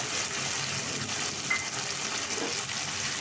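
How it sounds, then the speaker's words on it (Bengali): Spiced masala with cashew and tomato paste frying in a pan for potato curry, a steady low sizzle and crackle that holds even throughout, with no voices. "এটা দিয়েও আমি কিছুক্ষণের জন্য ওটাকে কষিয়ে নেব মশলাটা"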